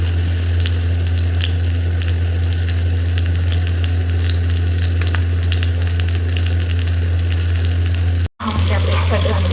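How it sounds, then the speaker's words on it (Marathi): Pomfret fish shallow frying in oil in a pan, a loud, steady sizzle with dense crackling spatters running continuously, with a brief sharp dropout near the end. "आता आपल्याला हे फिश चांगले शालो फ्राय करून घ्यायचे आहे."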